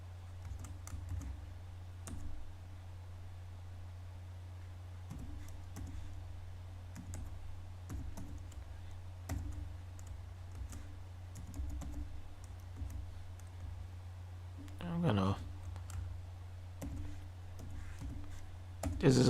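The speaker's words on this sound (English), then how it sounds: "So I'm going to type in my password in there." Someone types a password on a computer keyboard while setting up BitLocker drive encryption, giving light scattered key clicks over a steady low hum, with a brief louder burst of clicks near the end.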